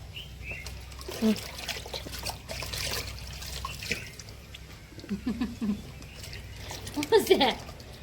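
Water trickles and splashes intermittently as colocasia (patra) leaves are rinsed, with a person talking and faint clinks in the background.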